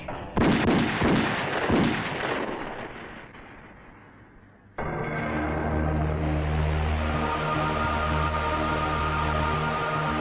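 Heavy booming gunshots crack out in rapid succession, loud and echoing, then give way to a dense rumbling roar with sustained tones.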